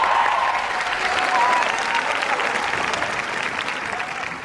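A school assembly claps and cheers for the proposition team before a debate, with a loud, continuous wash of applause from a large crowd and no break throughout.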